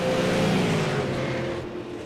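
Race cars in the Multi League Race of Champions, with engines roaring loudly past on the track, one steady droning pass that fades slightly toward the end.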